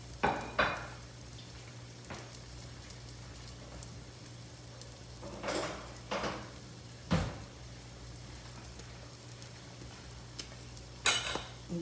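A potato omelette sizzles in a frying pan, a steady soft crackle and hiss broken by several louder bursts of spatter and clatter as it is stirred and turned, with no talking.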